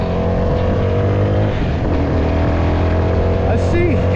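A new CFMOTO vehicle on slick new tires is ridden with its engine running steadily and loudly throughout, a constant close motor drone with slight shifts in pitch.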